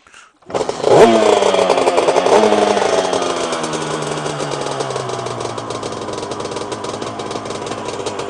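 A reed valve 275 Targa Twin two-stroke engine fires up with a sharp start, then holds a loud, raspy, rising and falling rev close by, with no talking over it.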